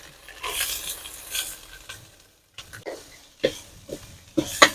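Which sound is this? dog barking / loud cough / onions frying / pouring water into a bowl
onions frying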